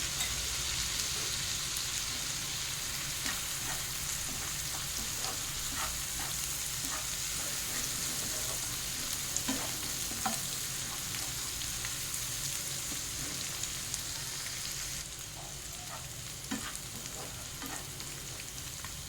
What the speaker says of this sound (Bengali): আদাটা ভালো করে ভাজা হয়ে গেছে